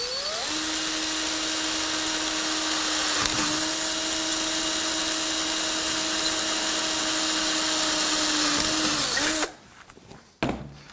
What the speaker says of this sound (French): La perceuse visseuse est réglée à la vitesse 1 et on va y aller tranquillement.